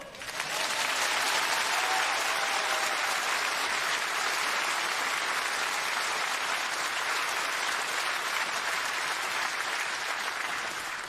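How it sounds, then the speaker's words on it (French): A theatre audience applauds a comedian arriving on stage, with dense sustained clapping that holds steady at full strength for about eleven seconds and carries no speech. "quand j'arrive sur scène, les gens m'applaudissent très fort"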